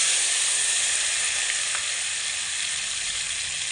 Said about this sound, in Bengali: তো গরম তেলের মধ্যে দিয়ে দেব এক চিমটে কালো জিরে ফোড়ন এক চিমটে গোটা জিরে বাদ বাকি যে টমেটো কুচানোটা ছিল সেটা দিয়ে দিচ্ছি